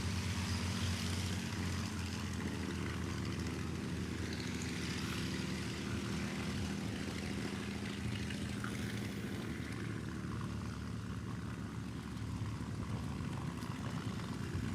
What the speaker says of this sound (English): We got Mustang starting up while we're talking about Mustang pilots